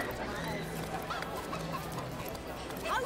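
Chicken clucking from the video game Divinity: Original Sin, a few short clucks over constant game ambience and background noise, with a tonal hum running underneath.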